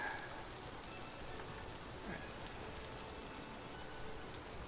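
Steady rain patters on surfaces in the survival game Vintage Story, a soft, even hiss of drops that continues unbroken throughout.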